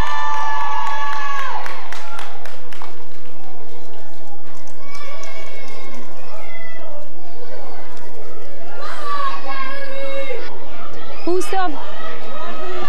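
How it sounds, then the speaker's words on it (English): A crowd of children and spectators cheers and shouts at a primary school football final, loud and close, with an announcer talking over the noise and excited voices rising in waves. "A big cheer for Coachford National School."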